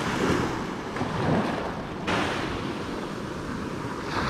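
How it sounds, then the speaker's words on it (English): Ocean surf rolls onto Sanibel beach in steady, broadband washes, one breaking wave after another with a noticeable surge midway, close and fairly loud with some wind rumble and no talk. "Waves have kind of calmed down too, which is kind of nice."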